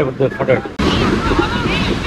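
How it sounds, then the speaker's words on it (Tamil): Water pours over the Veerapandi check dam like a waterfall, a loud, steady broadband roar that starts abruptly after a brief stretch of voice and then holds without letting up. "இதுவே அருவி மாதிரி கொட்டுது, சூப்பரா இருக்குங்க தண்ணி ஊற்றுது"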